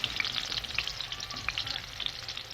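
Banana fritters (maruya) frying in hot oil, a steady close sizzle with crackling pops throughout and no voices.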